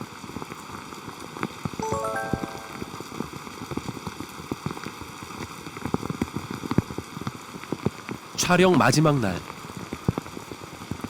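Steady rain patters across the whole stretch outside a textile dyeing factory in Pocheon, South Korea, with a short spoken phrase early on and a brief louder voice-like burst later.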